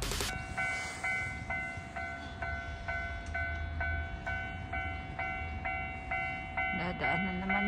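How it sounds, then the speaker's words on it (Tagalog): A train passes along the Mama River during cherry blossom season in Japan, its wheels clattering in a steady repeating rhythm at moderate distance, with a voice speaking briefly near the end. "Dadaan na naman yung tren."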